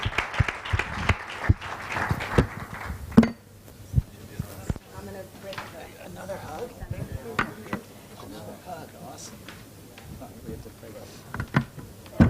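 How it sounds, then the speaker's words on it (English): An audience at an investment conference in Bahrain claps in a dense round of applause for about three seconds, then thins to scattered claps and faint room noise. "And so if we can give them a round of applause."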